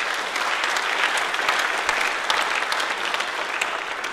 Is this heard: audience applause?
yes